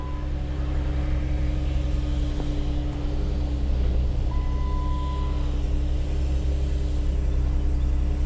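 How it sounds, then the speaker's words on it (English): A 2010 Jeep Wrangler idling after a no-start fault was fixed, producing a steady, close, low rumbling drone with a faint whine partway through and no talking. "Car's running."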